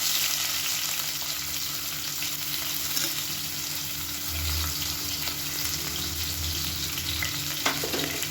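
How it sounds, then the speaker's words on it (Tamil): Long-sliced onion sizzles steadily in hot oil for a Seeraga Samba vegetable biryani, a continuous close frying hiss with occasional stirring and no one speaking. "இப்போ மீடியம் சைஸாக ஒரு பெரிய வெங்காயம் நீளமான நறுக்குனதை சேர்த்துக்கலாம்."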